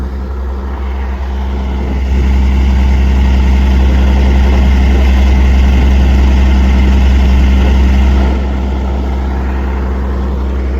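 A tractor engine drones loud and close while filling a slurry tank, a deep steady rumble that swells under heavier load for several seconds before easing back to its earlier level.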